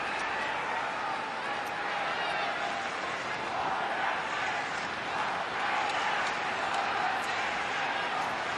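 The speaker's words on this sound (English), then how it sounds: "Crowd building still." An Australian football stadium crowd at a North Melbourne vs Sydney match murmurs and cheers as a broad, distant wash of voices, with faint clapping and commentary speech over it.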